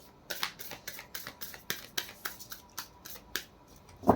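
Tarot cards are shuffled by hand, giving a close, rhythmic run of crisp slaps and riffles, about three or four per second, ending in a slightly louder knock.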